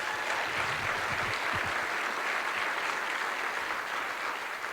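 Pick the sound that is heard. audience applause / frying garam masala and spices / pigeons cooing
audience applause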